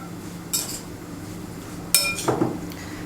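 A metal spoon stirs lemon and salt in a bowl, giving two bright clinks against the bowl, the second followed by a short scraping swirl, over a low kitchen hum.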